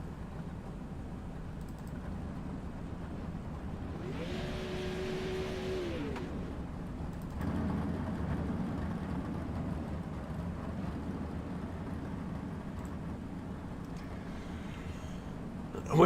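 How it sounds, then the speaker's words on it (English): Race cars circle the dirt track at Lanier during a heat race, a low steady engine drone carried on wind, with a brief rising whine mid-way and one car cutting through the grass. "We got cars rolling around."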